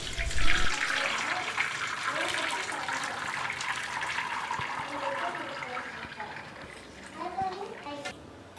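Curdled milk is poured through a thin cotton cloth laid over a filter for homemade paneer. The liquid makes a steady, splashing gush that runs close and continuous for several seconds.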